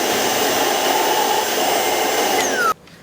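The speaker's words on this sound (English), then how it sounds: "run it on max mode, and then you turn this, and it sucks." A cordless vacuum running on max mode pulls debris out of a dirty filter, giving a loud, steady high-pitched whine with a rising tone near the end before cutting off abruptly.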